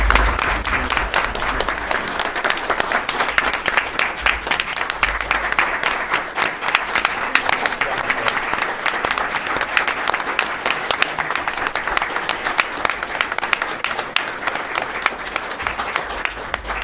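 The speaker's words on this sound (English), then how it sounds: "I think it would be appropriate for us to applaud for Yes. Dr. Butler." A city council meeting room breaks into sustained applause for a departing official, many hands clapping steadily and fairly loud for about seventeen seconds, with no talk over it.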